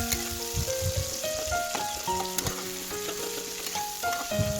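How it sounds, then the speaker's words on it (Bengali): Chopped onions frying in hot mustard oil give a steady close sizzle and crackle, joined by scraping stirs and a few clinks of a utensil against the pan. "লাল করে এবার ভেজে নেব।"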